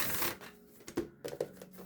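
Split decks of playing cards are shuffled, giving a soft riffle followed by a few brisk, quiet clicks and flutters of the cards.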